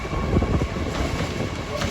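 A Lumo train passing through Doncaster station, a continuous loud rumble and rush of passing carriages with wind buffeting, close and steady throughout.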